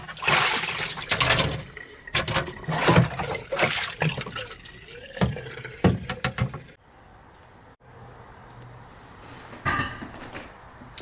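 A gouache paint brush swished and rinsed in a water jar, with close bursts of splashing and dripping and clinks against the glass, then a quieter stretch with one more brief rinse near the end.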